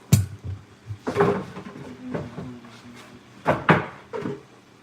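Cupboard doors being opened and shut in a home, a series of close, sharp knocks and thuds with wooden rattles, several bursts clustered at the start and again near the end.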